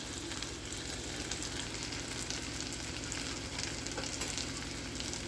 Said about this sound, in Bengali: কাশ্মীরি লঙ্কা গুঁড়ো, হলুদ, নুন দিয়ে আমি মশলাটাকে কষিয়ে নেব।